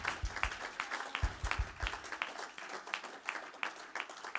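A church congregation applauds a visiting guest pastor with sharp, uneven hand claps that come in bursts, with some low thumps. The clapping is steady and fairly close, and there is no talking over it.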